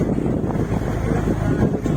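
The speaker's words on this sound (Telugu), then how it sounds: "కోరంగి వైల్డ్ శాంచురీలో బోట్ రైడింగ్ అని చెప్పొచ్చు" A boat ride through the mangrove forest of Coringa Wildlife Sanctuary near Kakinada, with a steady low engine and water rumble under heavy wind buffeting on the microphone, continuous and close throughout.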